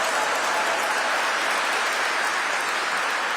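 Sustained, evenly textured applause fills the hall at Ethel Kennedy's memorial service, a thick continuous patter of many hands with no voices on top.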